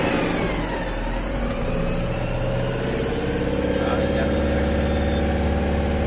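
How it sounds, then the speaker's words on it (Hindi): An Eicher truck engine, just started after a washing stop, idles with a steady low diesel rumble and chugging, close by and continuous, with a slight rise in revs toward the end. "अभी तो करी है गाड़ी अभी स्टार्ट"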